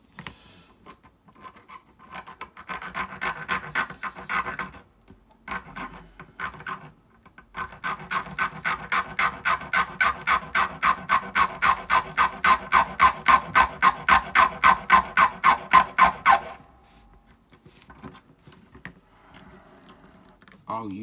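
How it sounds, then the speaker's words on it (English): Hand file rasping a plastic part from a Bismarck battleship model kit, a long run of rapid, even back-and-forth strokes that grows louder, preceded by a few hesitant scrapes and followed by quiet handling. "we'll get a file on that."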